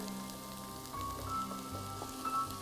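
A low, steady sizzle of broccoli, peas and tomato sautéing in a pan, with a few soft stirring scrapes rising briefly over the quiet frying.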